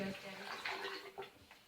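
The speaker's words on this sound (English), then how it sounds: "does the water go down when you press the button?" Water draining down a bathroom sink just unclogged of hair, a brief, soft gurgling rush with a couple of sloshing pulses, close and quiet.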